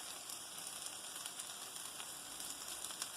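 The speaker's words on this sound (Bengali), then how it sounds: "এখন আমি চপগুলো ভাজবো।" Vegetable chops fry steadily in hot oil, a dense, even crackle and sizzle that holds at a constant level with small popping bursts throughout, and no voices.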